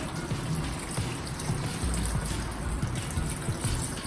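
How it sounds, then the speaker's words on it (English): Water pours into a pot of greens to top it off, a continuous trickling fill close by, with light clatter of the pot. "So again, top it off with some water."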